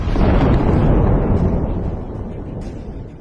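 An explosion of a destroyed Russian tank, a loud broadband blast that swells quickly and then decays into a rumbling roar over a few seconds.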